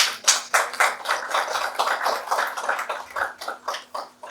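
Conference audience applauding at a microfinance HR event, a steady wash of many hands clapping with rhythmic swells, moderately loud and continuous for several seconds, with no talking over it.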